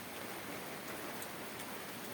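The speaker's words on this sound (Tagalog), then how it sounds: "Umuulan ngayon." Steady rain hisses evenly on surfaces, a soft continuous wash of drops with no voices.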